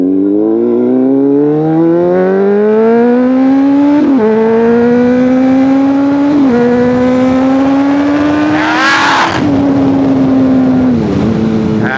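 A Honda CBR600RR motorcycle with a $170 aftermarket exhaust and no catalytic converter revs loud and close, climbing through several gear changes with brief dips between pulls, then a sharp burst before settling, with no talk.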